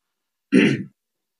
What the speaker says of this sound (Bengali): আপনি একটু মুখটা ওইদিকে করে কাশি দেন তো